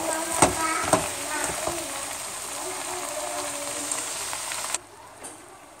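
Escabeche vegetables stirred while frying in a pan, a dense continuous sizzle with a few sharp scraping stirs near the start, cutting off abruptly near the end to a quieter hiss.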